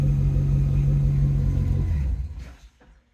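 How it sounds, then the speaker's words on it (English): A car engine idles with a steady low rumble, then shuts off and fades to near silence in the final second. "it's not like an amazing sounding car or anything."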